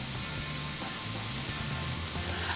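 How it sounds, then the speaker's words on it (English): Potato cubes sizzle steadily in hot ghee in a wok, a constant dense crackle with no voices and no pauses. "So just keep stir frying until you see a really lovely golden color"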